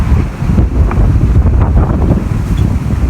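Strong wind roars in gusts outdoors in a forest during bird hunting, steady and loud throughout with broad buffeting against the microphone and no talk.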